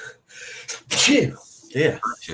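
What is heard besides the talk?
sneeze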